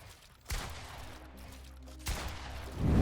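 Shots are fired in a building-and-shooting video game: two sharp gunshot bursts, each followed by a brief ringing tail, play over a low steady hum.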